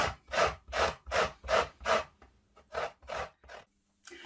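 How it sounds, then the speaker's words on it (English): Lemon rubbed against a grater for zest, a run of about ten rhythmic rasping strokes, close and crisp, with a brief pause before the last few strokes and no talking. "first we'll grate up some lemon zest"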